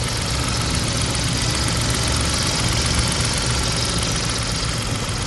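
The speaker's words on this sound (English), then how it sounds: "the engine's been running since we started the video, just so you can hear that there's no bangs" A white 2012 Kia Picanto idles steadily, its small petrol engine giving a constant, close mechanical hum and light vibration with no talking.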